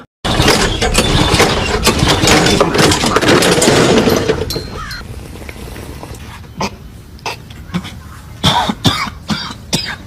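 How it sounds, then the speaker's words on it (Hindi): Harsh coughing from inhaled cigarette smoke: a dense, prolonged fit of hacking at first, then fewer, scattered coughs with short gaps between them. "धुआं इसके नाक में चढ़ गया और इसे खांसी आना स्टार्ट हो गई"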